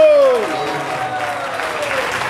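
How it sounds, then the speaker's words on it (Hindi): A loud round of applause from a devotional gathering at a Gaudiya Math temple site, opening with a voice trailing off, then settling into a thick, steady crowd clapping that carries on evenly. "इसके लिए जोरदार तालियां हरी बोल"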